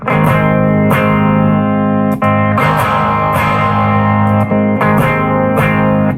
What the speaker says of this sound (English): Here's the clean channel.